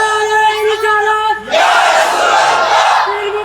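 Crowd at a religious sermon gathering in Comilla erupting into loud, sustained chanting of slogans, a dense roar of many voices lasting about two seconds after a single voice holds a sung tone.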